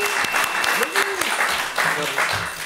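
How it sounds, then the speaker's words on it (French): Brief burst of clapping from a small group, with voices and whistle-like tones rising over the applause. "On peut les applaudir."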